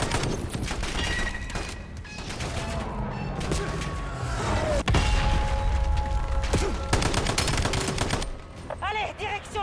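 Bursts of automatic gunfire and single shots in Call of Duty Black Ops 7, loud and dense, with mechanical clanks, thuds and whistling effects layered over game ambience.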